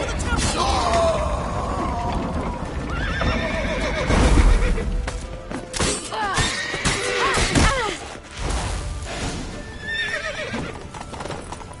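A battle horse neighs and whinnies repeatedly while hooves clip-clop and pound in a tense chase scene, loud and close, with crashes, mechanical clatter and shouting voices mixed throughout.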